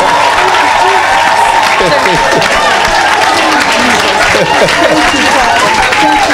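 A church congregation applauding and cheering together in steady, loud clapping that fills the room, with raised voices mixed into the crowd noise throughout.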